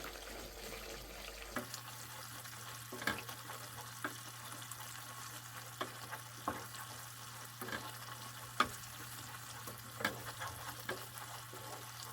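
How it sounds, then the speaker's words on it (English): Flour for a potato curry cooks in a pan with constant stirring: a steady low sizzle with faint scraping and light utensil taps at irregular intervals. "please make sure that you keep on stirring it"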